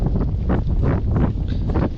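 Strong wind blowing at sea, a steady, loud buffeting roar that gusts slightly across the whole stretch, with rushing noise hitting the microphone and no voices.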